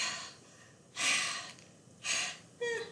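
A voice imitating a monster's panting mouth breathing: three loud, breathy rasping exhalations spaced about a second apart, close to the microphone.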